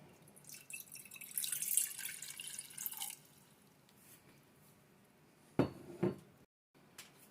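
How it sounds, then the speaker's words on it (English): Two cups of water poured into a cooking pot on a foldable gas stove, a soft splashing pour for a couple of seconds, followed by two sharp metallic clinks of the pot. "we're going to go ahead and pour that in our pot"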